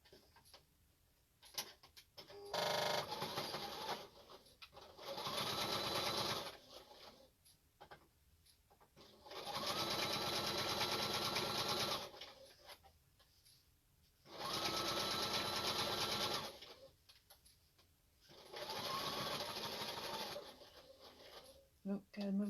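A sewing machine fitted with a walking foot stitches quilt binding in several bursts of rapid, even whirring, each a few seconds long, separated by quiet pauses with faint handling noises.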